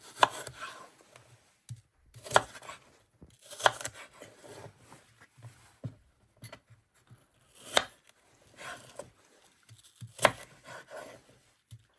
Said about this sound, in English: Now I'm dicing it again and I'm going to chop it into chunks.